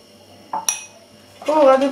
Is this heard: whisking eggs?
yes